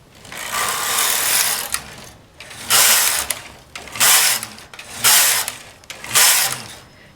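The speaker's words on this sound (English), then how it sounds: "I simply thread the machine and start knitting from there." A Brother knitting machine knits shell trim, its carriage swept back and forth in five loud, rattling passes of whirring gears and clicking mechanism, each separated by brief quieter pauses with no talking.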